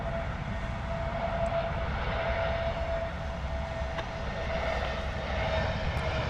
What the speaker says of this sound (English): A321 Neo KLM coming in hot from Amsterdam